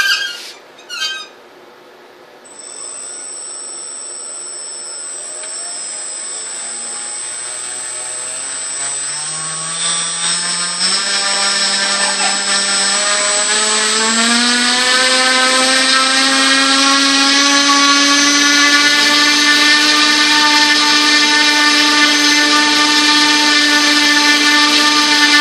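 Blade 350 QX quadcopter motors spin up from a quiet start to full throttle, a rising high-pitched whine with layered harmonics that climbs over about fifteen seconds and then holds loud and steady, close by with no talking.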